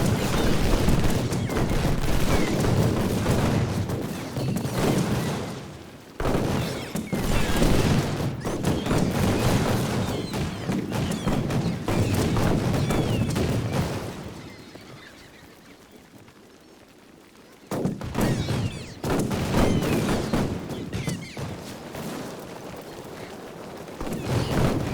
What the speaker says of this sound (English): you are conducting a long and overwhelming barrage